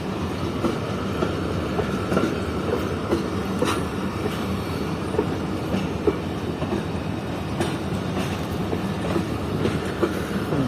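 Karachi Express passenger train with 2AC business and 3AC standard coaches running on rails, a steady continuous rumble with faint recurring clicks from the wheels, heard from inside with no talking.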